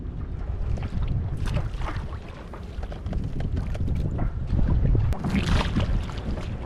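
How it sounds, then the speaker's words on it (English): A sailboat motoring on electric power from one bay to another at about 3 kilowatts, heard as a steady, close rush of water and wind noise with no talking. "We're gonna motor purely with our electric engine."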